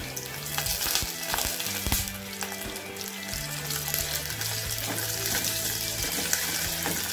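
Sliced onions and curry leaves fry in a hot pan for rasam, a steady close sizzle running throughout with occasional stirring scrapes and no voices.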